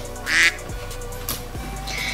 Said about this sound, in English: The ducks go wah, wah, wah, wah.